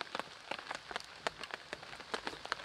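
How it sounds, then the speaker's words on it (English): Rain pattering at a wild camp beside a stream, near a hot tent, with irregular drops striking a surface in quick, scattered taps, fairly faint and with no voices. "it's been raining off and on"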